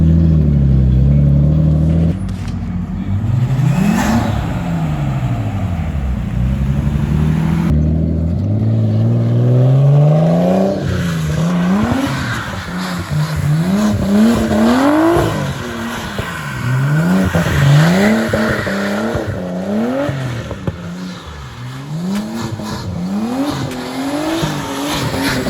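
A drift car with a welded differential revs hard while its tires squeal in repeated swooping howls, loud and close throughout.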